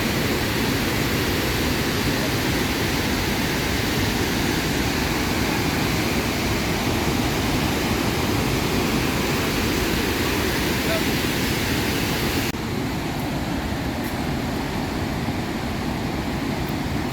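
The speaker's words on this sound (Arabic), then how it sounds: "شلالات، أشهر شلالات فيكتوريا" Victoria Falls in Zimbabwe roars as a loud, unbroken, broadband rush of falling water that fills the whole stretch, steady and overwhelming from start to finish.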